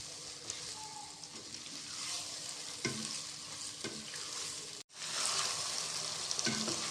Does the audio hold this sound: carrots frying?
yes